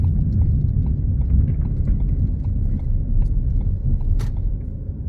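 A black 2013 Ford Fiesta 1.6 Zetec petrol hatchback with Powershift automatic transmission is heard from inside while driving. It gives a steady, low rumble of road and engine noise with small ticks and bumps and no talking.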